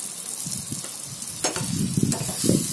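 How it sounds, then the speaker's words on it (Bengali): Chicken keema with tomato sauce is sautéed in a pan, with a close, even sizzle and bursts of spatula scraping and stirring that grow busier toward the end. "দিয়ে এবার এটাকে আমি ভালো করে কষাবো"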